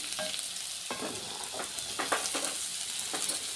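Thinly sliced broad beans sautéed with onions in a pan, giving a steady close sizzle and frying hiss with intermittent stirring scrapes and no talk.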